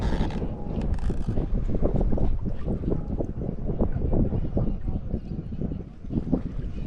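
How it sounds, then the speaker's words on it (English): Steady wind roaring across an open microphone near the water during light-wind kiteboarding, a continuous broadband rush with gusty surges that holds throughout with no clear speech. "The wind's starting to pick up."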